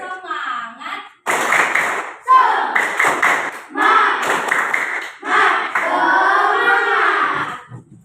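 A classroom group performs the tepuk semangat clapping chant, with bursts of rhythmic hand claps mixed into loud chanted children's and adult voices, in short repeated phrases separated by brief pauses.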